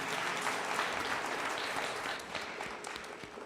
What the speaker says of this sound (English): And a round of applause to all of you